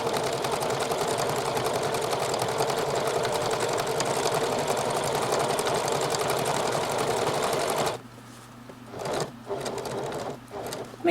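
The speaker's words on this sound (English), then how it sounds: "Now we want to top stitch all the way around. Again, I'm using the triple stitch" A sewing machine running a triple stitch to topstitch around a fabric pocket whirs loudly and steadily for several seconds, then stops, leaving a quiet hum and a few brief bursts of machine sound.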